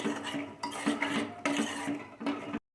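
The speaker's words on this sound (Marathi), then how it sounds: "मिक्स करून घ्यायचं पुन्हा एकदा व्यवस्थित।" Field beans mixed with salt are stirred in a metal pressure cooker, a spoon scraping and clanking against the pot in four or five steady rhythmic strokes, close and fairly loud, with no talk.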